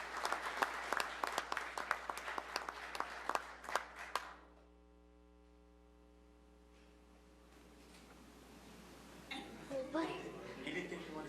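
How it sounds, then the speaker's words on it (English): At a city commission meeting, the room gives a dense burst of applause for a pageant winner. It stops abruptly after about four seconds, leaving a low hum, and faint voices follow later. "Give her a round of applause, please."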